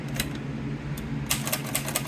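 Keys striking on a 1943 Royal War Machine typewriter, a series of crisp, close mechanical clacks in an irregular rhythm, busier in the second half.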